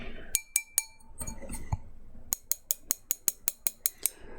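A metal object taps the base of a drinking glass in close ASMR-style recording, a few bright clinks, then a muffled rustle, followed by a quick even run of about ten sharp ringing taps.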